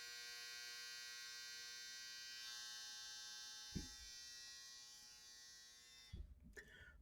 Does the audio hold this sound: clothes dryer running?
yes